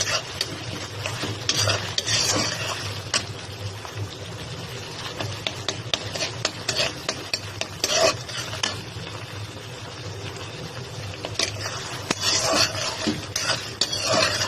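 Shrimp with Malabar spinach being stirred in a pan: a steady run of spatula scrapes and clinks against metal over a light sizzle, close and continuous, with no talking.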